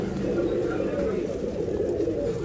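A breeding pair of pigeons coos in soft, throaty rolls, close and continuous amid low rustling in a loft, with a person talking at the same time.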